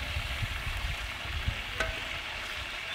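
Chicken pieces frying in oil give a steady, fairly quiet sizzle with crackle spread through the whole span, plus a few soft low knocks and one brief sharper pop near the middle.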